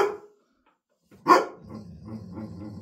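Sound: dog barking

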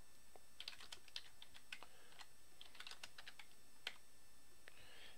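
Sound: typing on a computer keyboard in a command prompt

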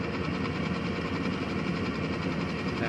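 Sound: rice harvester machine engine running

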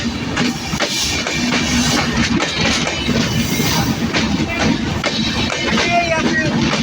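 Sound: express passenger train passing at station

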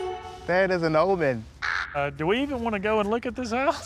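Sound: crow cawing on a church steeple

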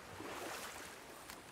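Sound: large waterfall in the video game God of War

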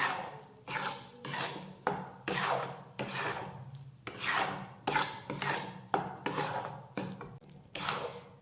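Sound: stirring modak filling in a pan

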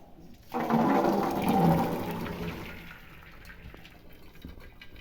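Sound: water draining from chickpeas in colander

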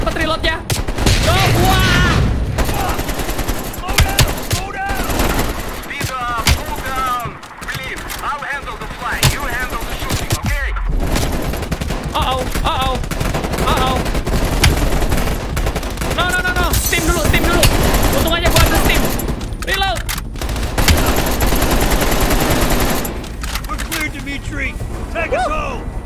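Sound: AK rifle gunfire in video game Call of Duty: Black Ops Cold War

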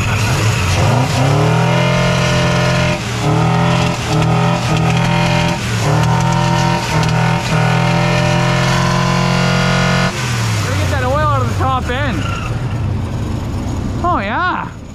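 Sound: revived junkyard Ford truck engine running and revving

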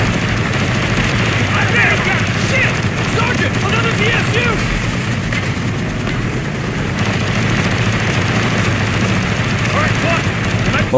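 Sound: gunfire in Call of Duty Black Ops video game

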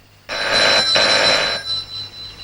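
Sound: telephone ringing

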